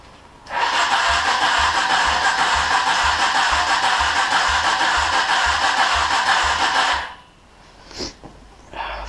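Gilera Cougar motorcycle engine being cranked during a rebuild, a loud, steady mechanical churn with a regular low pulsing lasting about six seconds, then stopping abruptly, followed by a few faint clicks and knocks.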